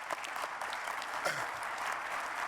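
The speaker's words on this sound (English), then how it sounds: "I want another round of applause" Sustained applause from a seated audience at the Chamberlain University College of Nursing winter 2019 commencement ceremony, a dense even wash of clapping that stays steady throughout, with faint voices mixed in.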